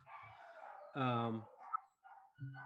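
A dog barks once, loud and close, amid quiet indoor talk.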